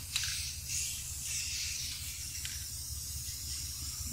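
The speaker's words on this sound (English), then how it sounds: "Gonna spray this over here last" Spray paint hisses from an aerosol can in faint, breathy bursts, quiet and close with a low background hum and no talking.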